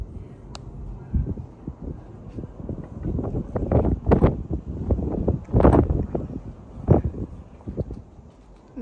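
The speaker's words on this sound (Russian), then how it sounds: "очень сильный ветер" Gusty wind buffeting the microphone in rough bursts, rising and falling loudly with no talking.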